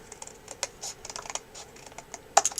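Card for a handmade book being cut on a paper trimmer: a quiet run of light, irregular clicks and slides, ending in a sharper cluster of snaps as the blade finishes the cut, with no voices.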